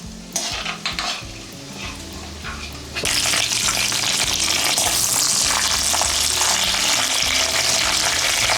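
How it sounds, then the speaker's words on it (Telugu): Garlic, cumin, mustard seeds and curry leaves frying in oil for an Andhra-style egg pickle: quieter sizzle and stirring at first, then a loud burst of dense crackling sizzle from about three seconds on that continues steadily, no talking. "వెల్లుల్లిపాయలు వేగిపోయిన తర్వాత ఇందాక తీసుకున్న తాలింపు దినుసులు జీలకర్ర, ఆవాలు, కరివేపాకు వేసుకొని ఫ్రై చేసుకోండి"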